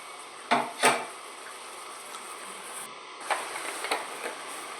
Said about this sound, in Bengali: একটু ঘেঁটে দিচ্ছি নেড়ে চেড়ে দিচ্ছি